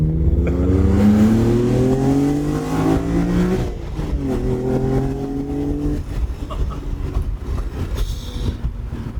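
A BMW E46 M3 CSL engine revs hard and loud, climbing through the gears with a raw, rising howl, then settles into a rumbling idle with crackles.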